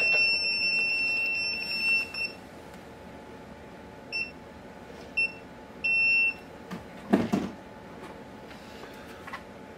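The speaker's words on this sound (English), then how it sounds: "Very simple 725L combustible leak detector." A 725L combustible gas leak detector gives short, high electronic beeps in several separate bursts over a steady background hiss.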